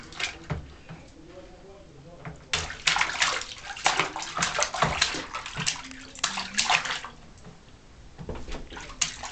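Water splashes and sloshes in a bathtub where a child plays, with bursts of irregular, close splashing and running water alongside people talking.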